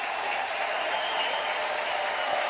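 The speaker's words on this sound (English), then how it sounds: "He's going to get a nice ovation." Applause from a small crowd at a Chicago Cubs vs Pittsburgh Pirates baseball game, steady and broad, a sustained ovation heard from a distance without interruption.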